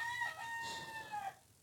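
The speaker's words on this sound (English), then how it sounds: "And see, even the chickens agree." Chickens with a rooster crowing, heard as one drawn-out, fairly faint crow with a little clucking, standing alone without voices.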